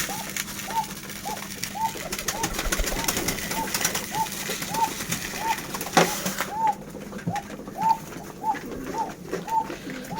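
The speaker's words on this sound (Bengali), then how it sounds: "দেখেন আমার কবুতর গ্রিড কি পরিমাণ পছন্দ করে।" Pet pigeons coo in a steady, repeating rhythm of soft throaty calls close by as they are fed grain, with faint rustling and pecking beneath and a brief rattle partway through.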